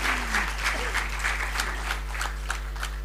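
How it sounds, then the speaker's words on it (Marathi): Audience at a book award and publication ceremony breaks into sustained applause, a dense crowd of hands clapping steadily throughout, with a faint hum beneath. "आता आपण जोरदार टाळ्या वाजू देत."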